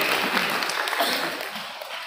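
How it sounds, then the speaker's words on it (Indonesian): Audience applause at a parenting gathering for guardians of grade 9 students at an Islamic boarding school, a dense, steady wash of many hands clapping throughout, moderately loud with no speech over it. "Tepuk tangan buat one frame keluarga hari ini Ibu."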